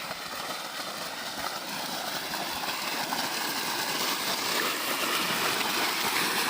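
Water gushes with force from two running motor pumps in a village, a steady, loud, broadband rush that grows slightly stronger over several seconds, with no talking.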